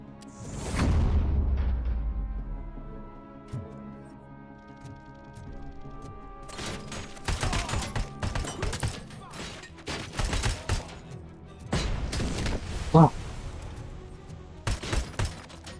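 Gunfire from the video game RoboCop: Rogue City. A heavy boom opens the passage, followed by sporadic bursts of shots and impacts over a game soundtrack.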